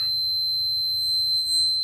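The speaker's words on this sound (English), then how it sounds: "And if it's continuity, you'll hear it beep." A multimeter continuity tester gives a steady high-pitched electronic beep, sounding continuously without a break, with a faint low hum underneath.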